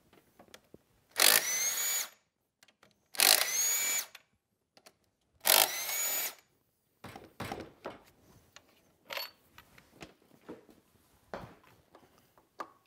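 A power tool whirs in three short bursts while removing the alternator from a Ford 6.0 diesel engine, followed by quieter clinks and scattered handling noises nearby.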